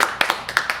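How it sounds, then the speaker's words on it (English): Sparse, scattered hand claps from a small group at a radio podcast recording, about half a dozen sharp separate claps spaced unevenly, close and moderately loud with no talking. "Edit out the tiny applause and then bring the big applause."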